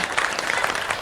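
A short burst of audience applause at a live comedy show: steady, dense clapping from a crowd, fairly loud and close, with no voices over it.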